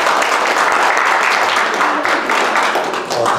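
Audience at a church gathering breaks into applause, a dense continuous patter of many hands clapping close by for several seconds, easing slightly toward the end.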